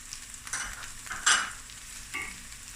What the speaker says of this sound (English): 2 to 3 tablespoons of garlic and ginger paste